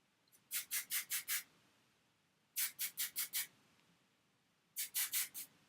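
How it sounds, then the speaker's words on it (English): Firm hold hairspray sprayed up under the hair in three separate bursts of quick, close hissing pulses, about five short puffs in each burst, with quiet pauses between. "I'm going to use my firm hold hairspray, tilt my head to the side, and just put my fingers up underneath my hair and then spray that area"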